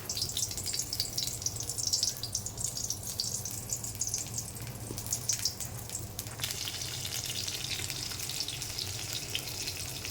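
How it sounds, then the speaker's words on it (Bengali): Pumpkin flowers coated in rice flour batter fry in hot oil with a dense, steady bubbling sizzle, close and unbroken, plus a few faint clinks and no speech. "এই যে ভাজা দিয়ে দিয়েছি।"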